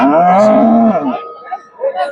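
At a cattle market in Erode, a cow lets out one loud, close moo lasting about a second, followed by faint background sounds and murmuring.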